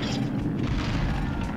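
A cannon beetle fires in the Pikmin 2 video game, giving a loud, continuous low boom that fills the whole moment with no voices over it.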